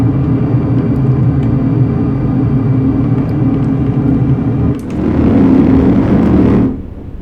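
An aircraft engine throttles up in Microsoft Flight Simulator 2020, a steady droning hum that swells into a louder, rougher roar near the five-second mark before cutting back abruptly just under seven seconds.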